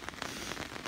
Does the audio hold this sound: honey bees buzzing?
no